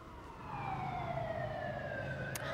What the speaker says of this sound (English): we can hear those sirens behind you